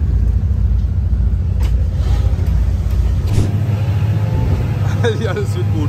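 A boat engine drones and rumbles steadily as the vessel sets off in Thailand, loud and close, with voices talking over it.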